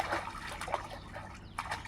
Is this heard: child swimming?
yes